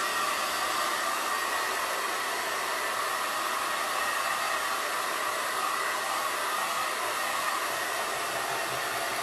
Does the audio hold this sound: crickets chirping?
no